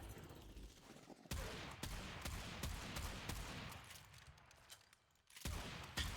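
Rapid bursts of Bronco Incarnon shotgun fire in Warframe ring out as sharp, closely spaced blasts, loud and near, with short pauses between volleys over steady game ambience.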